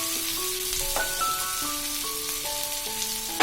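Green chillies with paneer cook in a pan, giving a steady close hiss under soft melodic tones.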